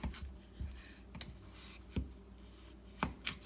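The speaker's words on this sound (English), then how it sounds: "pierce them with either a fork or a knife like this, so they don't explode on you in the oven" A fork or knife jabbing into raw sweet potatoes gives a few sharp, dry stabs and clicks spaced irregularly, close and fairly quiet, with no talking.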